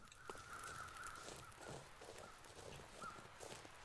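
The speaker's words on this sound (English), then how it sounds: "Crows." Crows caw in The Long Dark survival game, several faint, distant calls spread across a quiet outdoor ambience, with no talking.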